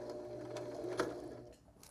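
A sewing machine back-stitching seams on a small DIY knot bag gives a steady, close mechanical whir for about two seconds, easing slightly at the end, with no talking.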